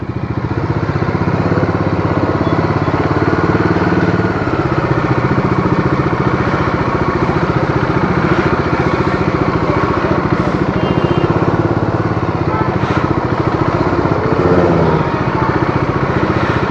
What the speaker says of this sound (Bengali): তো এখন দেখতে পাচ্ছ যেমন সব গাড়িগুলো বেরোয় যাচ্ছে